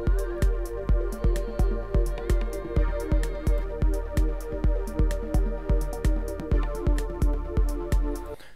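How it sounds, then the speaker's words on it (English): Ungated wavetable synth chords in Ableton Live 12 play in a steady rhythmic pulse, with bright, full tones that repeat evenly throughout. No voices. "So if we turn the gate off, we've got chords that sound like this."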